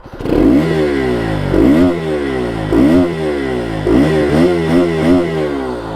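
Bajaj Pulsar RS200 motorcycle exhaust revved repeatedly, four or five sharp throttle blips rising and falling in pitch over a steady idle, loud and close with no talking.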